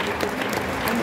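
Spectators at the 24 Hours of Le Mans applaud Cadillac taking pole position, a brief, dense burst of crowd clapping, loud and continuous with a murmur of voices underneath.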